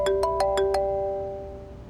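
A phone rings with five quick electronic chimes, then the tone lingers and fades away, loud and close with no talking.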